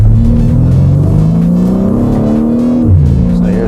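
A tuned car accelerates hard from close by, its engine snarling loud and steady as the pitch climbs through the gears with a brief dip at a shift, tire slip blending into the roar.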